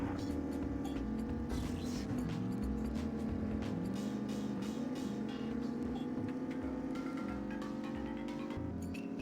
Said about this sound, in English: I can hear the car. It's right on me.